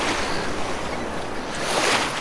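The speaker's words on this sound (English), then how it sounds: "Small but clean waves were on offer on the coast today" Small ocean waves break on a Gold Coast beach, making a continuous broad wash of surf with some wind buffeting and a swell of louder spray near the end, with no talking.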